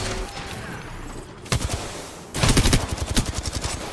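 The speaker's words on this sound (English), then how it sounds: "And he's shooting at me." Gunfire from the video game Apex Legends: rapid bursts of automatic shots crackle in two loud volleys, the second longer and denser, over a steady game background.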